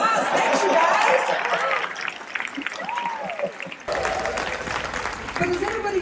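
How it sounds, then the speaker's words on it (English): Audience applause for account managers at a Royal Caribbean presentation, a fairly loud burst of clapping that thins out midway and then picks back up, with some chatter mixed in. "Okay, give them a round of applause"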